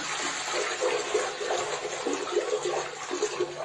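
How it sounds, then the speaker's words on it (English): A toilet flushes in a rural bathroom with a continuous loud rush of swirling water, close and steady, with no voices over it. "Olha o que acontece quando a descarga."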